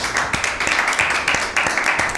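A studio audience claps for a correct answer at an Easter Bible quiz show. The claps come as close, distinct, uneven hand claps rather than a roaring crowd, sustained for a couple of seconds.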